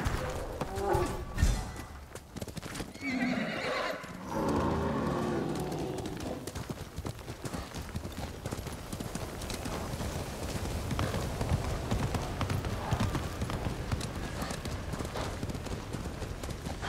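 Steady clip-clop of a galloping horse in Ghost of Tsushima, loud and close, with a brief snorting neigh early on and continuous hoofbeats running through the rest of the stretch.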